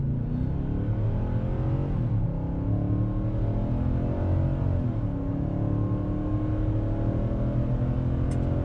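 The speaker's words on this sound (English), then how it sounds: "0 to 60 run uphill, no brake torque. I'm just gonna flat foot it," A 2021 Nissan Titan Pro-4X pickup loaded to about 7,300 pounds accelerates uphill at full throttle from a standstill, its engine roaring loud and steady and rising in pitch through smooth gear changes.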